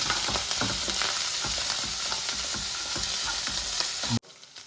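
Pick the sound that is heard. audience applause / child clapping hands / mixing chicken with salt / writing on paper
mixing chicken with salt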